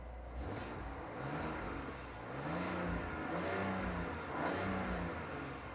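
A 2025 RAM 1500 Limited with the Hurricane HO engine revving as it accelerates, a muffled mid-pitched drone that climbs in pitch, drops back and climbs again through gear changes, heard faintly from inside the cab.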